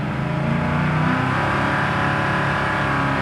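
A 1968 Chevy Nova's engine revs hard under acceleration, a loud, steady roar held at high RPM with slight waver, heard close from inside the car, with no talk.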